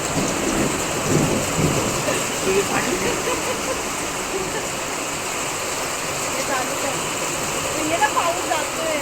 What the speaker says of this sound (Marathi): पाऊस जातोय